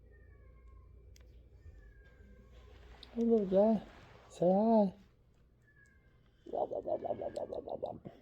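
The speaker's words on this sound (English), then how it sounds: "I don't know if you can hear the freaking cat in the background" A cat meows loudly in the background: two drawn-out calls, then a rapid run of short, insistent yowls, while someone talks softly nearby.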